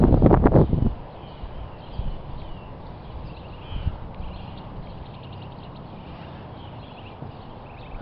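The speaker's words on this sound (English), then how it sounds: "Oh, here comes the wind." Gusty wind buffets an unshielded microphone outdoors at sunrise near Amarillo, Texas, a loud rumbling blast in the first second that settles into steady low roaring with occasional smaller gusts.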